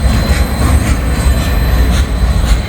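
A freight train with a locomotive rolls past close by, a loud continuous rumble with rhythmic wheel clatter on the rails and no voices.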